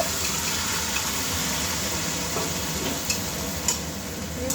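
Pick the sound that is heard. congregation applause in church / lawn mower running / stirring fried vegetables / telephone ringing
stirring fried vegetables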